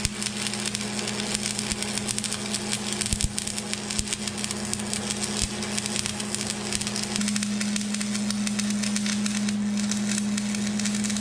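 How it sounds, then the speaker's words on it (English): Arc welding a bead on an excavator thumb produces a continuous crackling, sizzling buzz with a steady hum, close and sustained for the whole stretch, with no voices. "I got the welding done."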